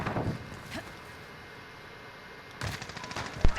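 Gunfire from the player's weapon in Call of Duty, a few sharp shots near the start and a louder cluster near the end, separated by a quieter stretch of ambient noise.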